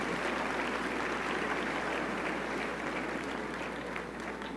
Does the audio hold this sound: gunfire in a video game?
no